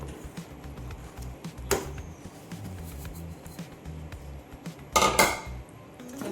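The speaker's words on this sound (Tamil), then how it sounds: "நல்லா கிண்டிக்கும் இது மாதிரி எல்லாத்தையும் சேர்ந்த மாதிரி கிண்டி விட்டுறணும்" Coconut and semolina burfi mixture being stirred in a metal pan, with a soft scraping bed broken by two sharper clanks of the spoon against the pan.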